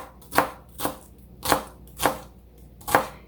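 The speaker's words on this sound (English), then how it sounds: "So first I'm gonna slice it across with a sharp knife, put them down, and just cut them in the chunks you like." A sharp knife chops through leeks on a cutting board, five crisp, evenly spaced cuts at a slow, steady rhythm, close and clear with no talking.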